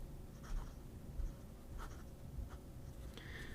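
A soft flex nib pen scratches across paper in short, faint strokes with brief pauses between them, close and quiet, with no one talking.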